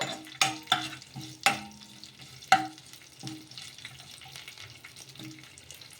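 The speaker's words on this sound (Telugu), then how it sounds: "ఇప్పుడు మొత్తం కూడా ఒకసారి బాగా కలిపేసుకుందాము" Sesame seeds, green chillies and other ingredients are stirred into a frying mixture in a pan, sharp spoon scrapes and knocks landing irregularly over a low sizzle, close and clear with no talk.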